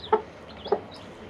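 A hen with chicks in a henhouse gives two soft, close clucks about half a second apart over quiet background noise.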